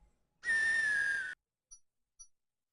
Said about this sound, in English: Was it that whistling noise?